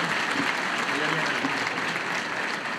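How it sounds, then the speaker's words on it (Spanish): Applause from the audience at a constituent forum in Zulia, Venezuela, welcoming a guest historian: a steady, dense wash of clapping hands that holds at full strength for the whole stretch, with a voice briefly audible beneath it. "Un aplauso para él,"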